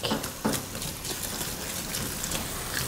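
Water rinsing over a puppy's face at bath time, a continuous close splashing gush with small irregular splatters, no voices.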